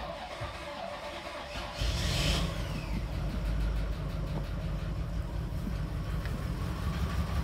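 A flood-damaged Cadillac Allante engine turns over and starts, settling into a steady, somewhat rough running rumble that continues close by, with no talking.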